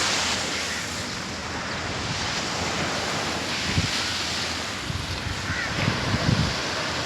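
Ocean surf at Dadar Beach in Mumbai, a constant broad roar of waves with heavy wind buffeting the microphone and a few slightly louder breaks, no voices.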